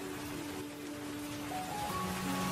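Rain falling in a cartoon scene, a soft continuous hiss of steady rainfall, faint and even, with a couple of thin tonal notes drifting in the background.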